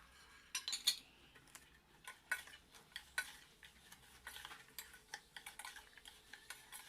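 A spoon stirs garlic, chili and salt together in a bowl for an Assamese garlic pickle, giving quiet, close scraping clicks and taps in an uneven rhythm over a low background, with no voices.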